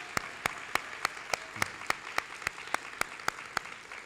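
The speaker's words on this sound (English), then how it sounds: "Can we please give her a round of applause while she stands to be recognized?" An audience at a school district's State of the Schools 2024 event in Portsmouth claps for an honoree, heard as a steady run of sharp individual claps at an even rhythm rather than a dense roar, fairly close and without voices.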